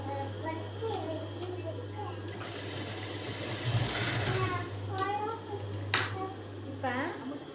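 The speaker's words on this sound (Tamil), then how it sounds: "இதை அமுக்கு தையல் போட தைச்சிட்டோம்" A sewing machine stitches a blouse hem, its motor whirring in short runs close by, while a voice and meow-like cries rise over it at intervals.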